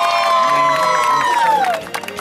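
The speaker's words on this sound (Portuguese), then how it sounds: "Uma salva de palmas, galera." Brief burst of crowd cheering and clapping at a street romantic surprise for a couple in São Paulo's east side, with music and voices layered over the loud, lively shouts.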